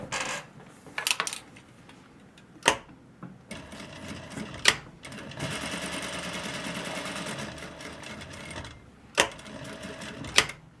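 A sewing machine runs in short bursts and one longer steady run while stitching a zipper bag, the motor whirring between sharp clicks and clacks from handling the fabric and machine, quiet and close.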